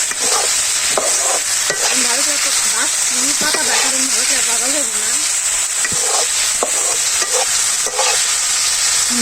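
Vegetables with potatoes and greens being stir-fried in a pan produce a loud, continuous sizzle with scraping stirs, while a person talks over the cooking.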